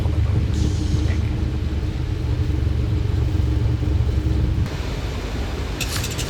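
A Boeing 737 rolling out after landing at Amsterdam Schiphol with reverse thrust and braking, a heavy steady low roar from the cockpit that drops off sharply near the end, followed by a few faint clicks.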